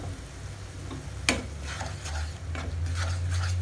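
A spoon stirs fish curry cooked with roasted gram flour, salt and sugar, giving a sharp metallic clink followed by softer scraping and soft sizzling in a pot, close and quiet, with no voices.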